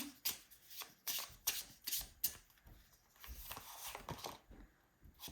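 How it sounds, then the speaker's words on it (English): Affirmation cards shuffled by hand in a series of crisp riffling bursts, followed by softer rustling as one card is pulled from the deck; close and quiet, with no talking. "I'm going to pull you an affirmation card."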